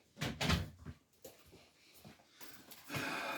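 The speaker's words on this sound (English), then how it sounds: "I'm gonna shut this door real quick." A door is shut in a room while rocks from a solar-powered rock tumbler are being inspected, giving a short close thump and rattle at the start, followed by quieter shuffling handling noises and a low hiss.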